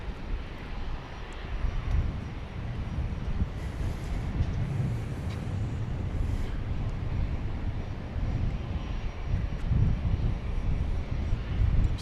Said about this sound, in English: FlexJet from a Bombardier Challenger 3500 coming in from the Cayman Islands.